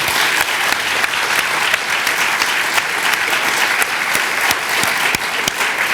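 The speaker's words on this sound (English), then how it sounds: "if we could close with just a round of applause for our panelists today" Full, loud audience applause at a Rotary meeting closing a 2005 Cupertino ballot initiatives debate, cheering the panelists; many hands clap densely and evenly throughout, close and sustained, with no speech.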